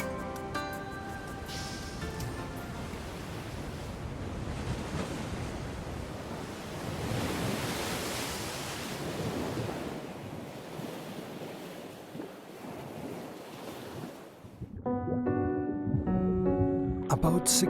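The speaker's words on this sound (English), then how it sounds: "The clashing waves churn up the seawater to bring up large amounts of plankton" Clashing waves surge and churn in a turbulent breaker zone of the sea near Changdao, a steady loud roar of surf with wind noise that swells in the middle and eases toward the end.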